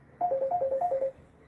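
A phone ringtone chirps in a quick, even series of about eight short two-note beeps, moderately loud and close, with no talk.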